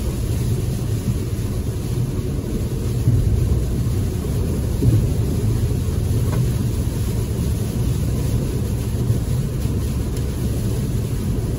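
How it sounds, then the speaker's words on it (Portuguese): Heavy rain drums steadily on a 2022 Jeep Renegade Longitude T270 driving through a storm, a dense continuous roar with low rumbles of thunder mixed in, heard from inside the cabin without talk. "Sempre, sempre que eu tô com vocês, é chuva que não tem mais tamanho"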